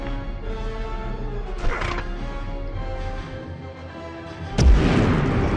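A grenade blast in Medal of Honor lands as a sudden loud boom late on, after a steady game soundscape of rumbling ambience and a brief thud earlier, with no talk over it.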